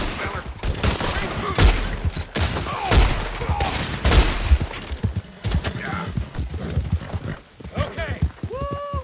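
Gunfire in Red Dead Redemption 2, with repeated loud close shots mixed with galloping hooves, a whinnying horse and people shouting during a chaotic shootout.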